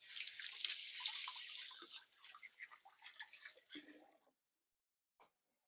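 Hands are washed under a running kitchen tap while baking. A steady rush of water gives way to choppy splashing, then stops, followed by a single faint click.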